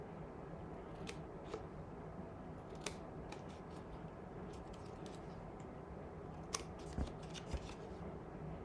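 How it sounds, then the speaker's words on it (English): Scissors snip through paper pieces for a tealight holder craft, a steady run of close, quiet cuts with a few sharper clicks, no voices over them. "I'm going to cut in to the same side."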